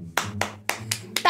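Five distinct, fairly close handclaps spaced about a quarter second apart, each sharp and bright, played as a welcome for actress Kangana Ranaut, with a low voice humming underneath.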